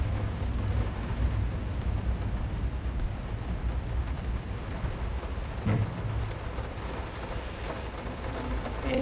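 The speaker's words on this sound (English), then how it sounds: "Why is the rain so loud?" Heavy rain pours steadily with low rumbling thunder throughout a stormy scene in the horror video game Layers of Fear, loud and continuous with no speech.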